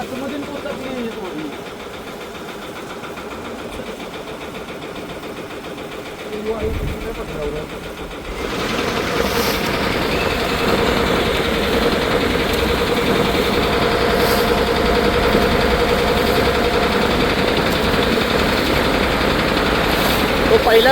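A fishing boat's engine runs with a steady, loud chugging drone that swells in after a quieter stretch, then holds an even, continuous rumble.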